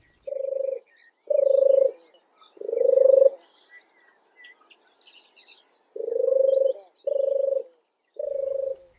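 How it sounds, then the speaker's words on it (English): A turtle dove gives its soft purring song outdoors: six separate rolling, throaty phrases, each about half a second long, spaced by brief pauses, clear and fairly close with faint birdsong in the background. "the song of the turtle dove is like a cat purring in a tree."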